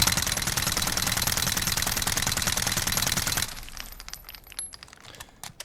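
Rapid, sustained automatic fire from a Mini Uzi in Call of Duty Modern Warfare, a loud continuous burst of sharp shots for about three and a half seconds, then abrupt stop leaving faint scattered clinks and tail noise.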